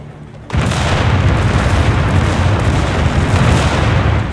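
Artillery strike in Company of Heroes 3 Winter Line, a sudden loud blast after a half-second lull, then a sustained roaring rumble of shelling that stays dense and heavy to the end.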